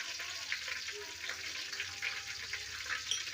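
Fenugreek and cumin seeds frying in hot oil in a pan while a fish curry is being made, giving a steady close sizzle and crackle with faint clinks and no talk.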